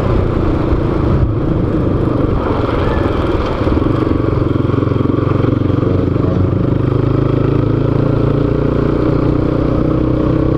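A vehicle engine accelerates on a street in Tatuí, São Paulo, as a loud, continuous close-up rumble. It rises in intensity with rattling road noise and has no talk over it.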